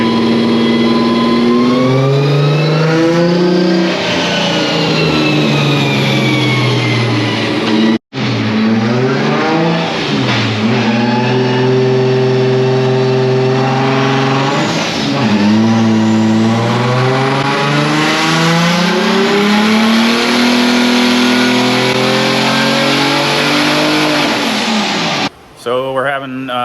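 Nissan 370Z Formula Drift car engine on a dyno, revving hard through repeated rising and falling pulls, loud and close, with a brief cut near the middle and another near the end.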